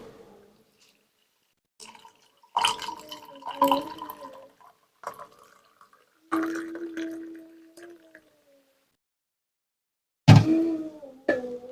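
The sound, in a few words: hot water being poured into a glass for green tea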